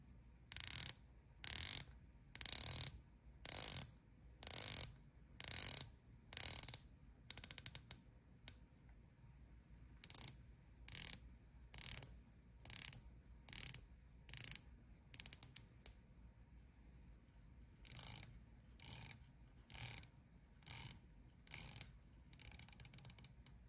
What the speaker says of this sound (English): there's something very calming about spinning a bezel, just like a fidget spinner, but this one is so loud, it just gets distracting